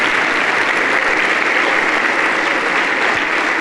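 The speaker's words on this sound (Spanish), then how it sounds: "Dale un aplauso al Rey." A church congregation at a Sunday sermon applauds loudly and steadily, a dense, close wash of clapping that fills the room without a break and with no voices rising above it.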